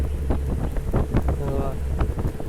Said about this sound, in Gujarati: આરામથી જો હવે પવન આવ્યો જબરદસ્ત